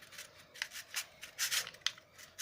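Scissors snipping coil wire while building an RDA vape coil, several quick close cuts and soft metallic snips in a row.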